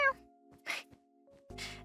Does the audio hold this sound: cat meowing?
yes